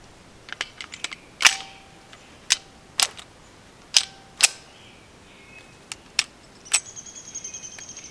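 A Ruger Security-380 pistol is fired while testing different ammunition for a cycling fault: about a dozen sharp, snappy cracks at irregular spacing, some in quick pairs, each short and clean against a quiet background.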